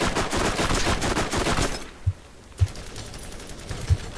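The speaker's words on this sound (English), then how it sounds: "I'm giving him one headshot after the other" Gunfire in the Borderlands video game, a dense rapid burst of loud automatic shots, then a few separate heavy thumps of single shots or impacts after a short lull.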